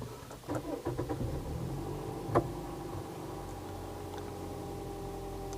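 A 2009 Toyota Vios G automatic engine cranks with a few quick pulses, catches, and settles into a steady low idle with a single click partway through.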